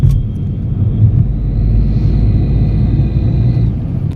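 Steady low engine drone and road rumble fill the cabin of a Mahindra XUV 3XO cruising in fourth gear, with a coarse, tractor-like tone, loud and unbroken with no talking.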